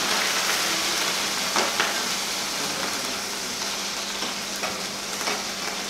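Cumin seeds and green chillies crackle and sizzle in hot oil for a tempering, a steady close frying hiss with scattered sharp pops and no voices.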